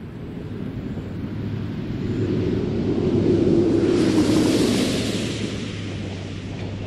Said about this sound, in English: It will pull the nose up a little bit right before it hits the runway